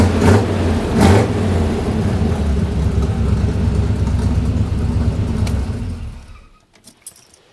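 An old truck engine with a faulty distributor runs loud and uneven, sputtering and coughing with rough surges, then dies out around six seconds, leaving a few faint clunks.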